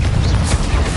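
A Confringo blasting curse explodes in a Harry Potter video game, a single loud, heavy, rumbling boom filling the whole second, close and dense.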